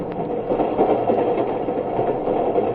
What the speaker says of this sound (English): Will his Freedom Train come zooming down the track, gleaming in the sunlight for white and black?